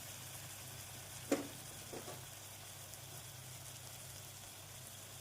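Chicken with curry leaves sautéing in a pan, a steady low sizzle throughout with one sharp scrape or clink near the start and a softer one shortly after; no one talks.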